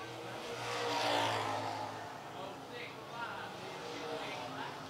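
Race cars in a Renegade feature roar down the front straightaway at Lancaster Motor Speedway, one engine note swelling as a car passes close and then fading, with more engines following under an announcer's commentary.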